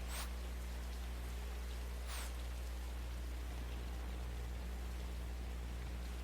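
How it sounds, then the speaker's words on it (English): Steady rain falling during a round of the golf video game Hot Shots Golf World Invitational, an even hiss of drops alongside a low constant hum, with two brief swishing sweeps early on and no talking. "So it's raining for us."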